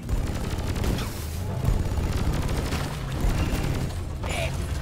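Plasma carbine fire in a sci-fi shooter game, a Drak plasma carbine with a scout loadout, heard as a steady barrage of rapid shots and booms layered with dense mechanical noise throughout.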